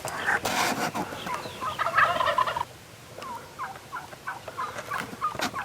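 Wild turkeys gobble during a spring hunt, several loud rattling gobbles close by at first, then a flock answering with repeated quieter gobbles and yelps farther off.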